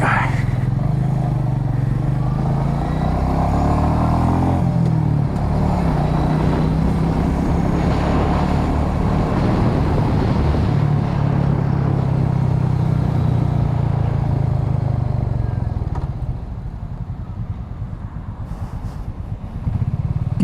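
A Royal Enfield Meteor 350 motorcycle ridden through city streets in Medellin, with a steady low single-cylinder engine thrum and wind rush that rise and fall with throttle, then ease off near the end.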